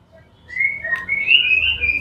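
A pet canary sings close by and clearly, giving a bright, sustained warbling trill that rises after a short quiet start and carries on without talk.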